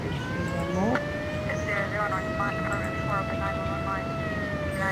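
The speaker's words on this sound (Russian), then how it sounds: "У вас сирена, кстати." A siren in the 1996 video game Harvester, sustained steady wailing tones held close and loud for several seconds, with a voice talking over it.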